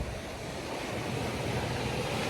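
Steady waves wash onto the beach at Pratamnak Soi 4 in Pattaya, a continuous broad rushing surf mixed with wind noise, with no voices.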